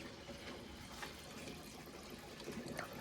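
Fuel poured by hand into the tank of a Prius fitted with an LS engine swap, a steady close liquid trickle and splash running continuously without speech.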